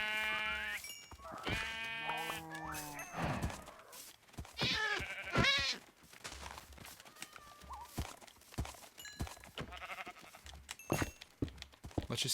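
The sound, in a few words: sheep bleating in the video game Minecraft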